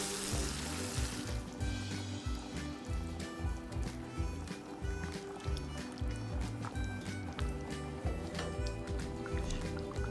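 Green chile pork with salsa simmers in a pot, giving a soft continuous sizzle with wet stirring squelches and faint liquid bubbling, moderately quiet and close.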